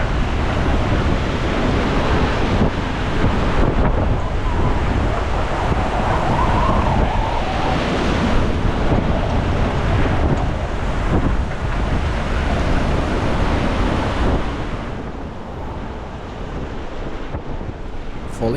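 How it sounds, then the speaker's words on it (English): Hurricane-force wind roaring over a sailboat at sea with ocean waves crashing, a loud, dense, unbroken howl and rush that barely eases over the whole stretch, with no voices. "A wall of wind that travels at 120 km per hour or even more just slapped my face"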